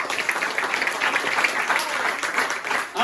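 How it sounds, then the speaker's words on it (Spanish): A church congregation applauds during a service, a dense, steady wash of many hands clapping at once that fills the space for a few seconds at fairly close range. "Un aplauso a Cristo Jesús."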